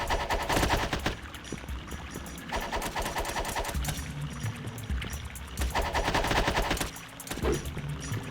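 Rapid gunfire from shooting in a video game, dense bursts of automatic fire layered over a busy game soundtrack, loud and continuous for several seconds with brief lulls.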